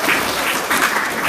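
An audience at a magic show claps in a dense, steady burst of applause that fills the short moment, fairly close, with no voices over it.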